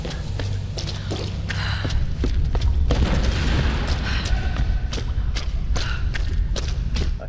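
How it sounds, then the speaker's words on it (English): Explosions go off in Tomb Raider (2013) on PC, heavy booms and thuds rolling through with a burst of crackling debris in the middle, moderately loud over game ambience. "I keep hearing explosions."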